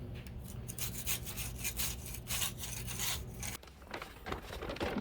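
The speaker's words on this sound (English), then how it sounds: "now I'll come back and try and scrape off what I can" Scraper rasping old coating off a wetted hundred-year-old basement wall, a close run of rough, rhythmic scraping strokes with a brief pause near the end.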